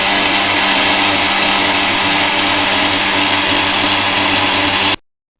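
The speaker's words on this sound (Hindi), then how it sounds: "ग्राइंड कर लेंगे अब।" Blender grinding raw mango for mango sharbat, a loud, steady whirring roar running unbroken for about five seconds before cutting off abruptly into silence.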